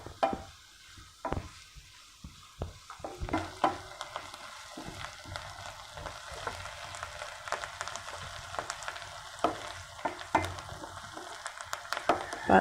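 Shallots fry in a pan for mutton gravy, giving a low, soft sizzle broken by frequent scraping and clacking strokes of stirring, close and fairly quiet, with no voices.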